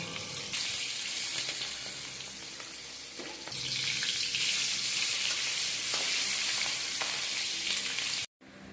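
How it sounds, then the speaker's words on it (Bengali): Three pieces of catla fish frying in hot oil in a pan, a loud continuous close sizzle that swells midway and runs steadily until a brief cut near the end, no voices. "মাছটা হালকা করে ভেজে নেব।"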